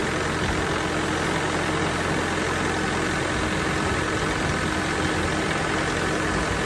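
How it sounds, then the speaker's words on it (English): A pressure washer blasts dirt off a Bobcat Tier 4 skid steer near the fuel filter, a loud, unbroken roar of engine and spray that holds steady throughout with no talk. "what I'm going to do is I'm just going to lightly blow the thing free"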